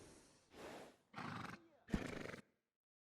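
A workhorse whinnying in Red Dead Redemption 2, three loud, close neighing bursts separated by short pauses, the last one shaking and trailing off into silence.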